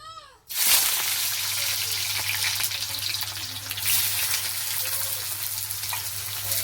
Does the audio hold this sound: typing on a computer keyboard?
no